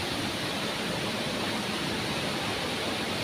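Rushing water from a waterfall near a well in a Konkan village, a steady broadband roar that stays even and unbroken from start to finish, with no voices over it.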